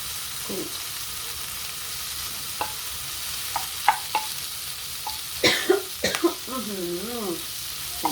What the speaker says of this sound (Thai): ผัดให้ผัดผ่านไฟก่อน ปรุงสักหน่อย